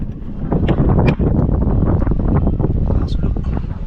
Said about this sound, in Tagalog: Okay, ito po yung blower.